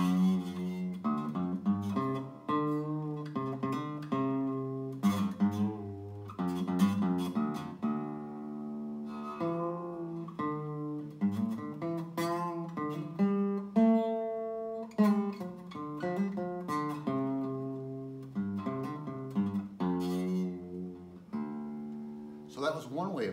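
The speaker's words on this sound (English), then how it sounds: "So that was one way of playing a bent note, was to pull on the string." Guitar notes bent upward by pulling the string sideways, a slow run of sustained tones whose pitch slides and wavers, played close and clear with no voices.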